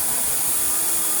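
Hoover Compact Electronic S3462 vacuum cleaner, refurbished, running steadily with a constant broadband whoosh and motor hum, no talk.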